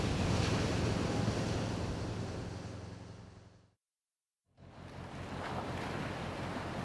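Sea waves and wind roar around a cod fishing boat at sea in winter, a dense, steady rush of surf and wind noise that cuts out abruptly for a moment, then resumes, with no talk.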